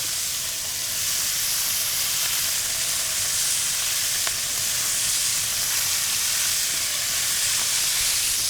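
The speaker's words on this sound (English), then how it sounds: "You wanna hear that great sizzle?" Pork shoulder searing in a hot pan, a loud continuous sizzle with crackling fat and steady hiss heard close up with no voices.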